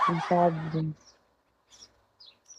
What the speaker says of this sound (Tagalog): May manok kasi dito. Batang sabong.